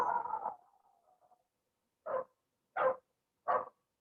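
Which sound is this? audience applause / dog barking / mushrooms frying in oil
dog barking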